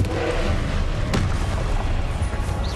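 A Confringo fire spell from Hogwarts Legacy goes off as a booming explosion with a sharp crack partway through, sitting inside a dense, continuous wash of game noise and rumble throughout.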